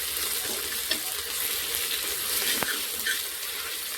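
Ginger garlic paste is stirred into meat frying in a pan, giving a steady, moderate sizzle broken by a few sharp scrapes and clicks from the spoon, with no voices.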